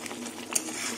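Potato and rui fish curry masala sautéed in oil in a pan, with a steady soft sizzle and faint spatula scrapes across a short stretch, close up and without talk.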